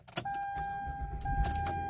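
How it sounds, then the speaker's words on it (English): A 2008 Hyundai Santa Fe with a stalling fault gives a sharp ignition click, then a steady dashboard chime tone over a low engine rumble that swells briefly, with no voices. "Turn it on and then it boom, just dies."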